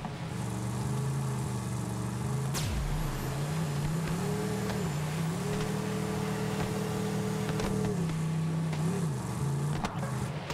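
A vehicle driving in Borderlands 3, a steady droning engine whose pitch rises and falls as it speeds up and slows, loud and continuous with a sharp knock partway through.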